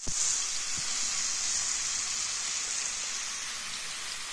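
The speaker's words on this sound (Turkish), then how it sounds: "mantarlar pişmeye başladı" Freshly gathered wild mushrooms start to cook in a pan in a village kitchen, giving a steady, close, rain-like sizzle and hiss that lasts throughout, with a couple of faint knocks at the start.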